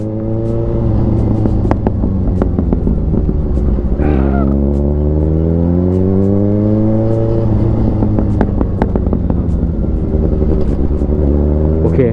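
A Suzuki GSX750 motorcycle engine runs loud and close throughout, with rising and falling revs as it is ridden, a steady harmonic drone shifting pitch around mid-clip.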